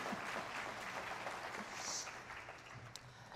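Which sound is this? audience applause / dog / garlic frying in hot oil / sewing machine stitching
audience applause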